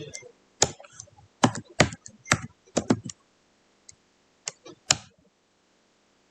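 Keystrokes on a computer keyboard, entered at a Linux command line: scattered clicks in short bursts, near and fairly quiet, with pauses between groups of taps and no talk.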